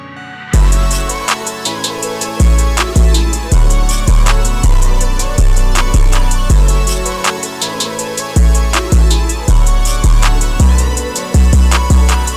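Full trap beat made in FL Studio, with deep booming 808 bass notes sliding under hi-hats, claps, snares and sustained melodic layers, loud and continuous throughout, no talking.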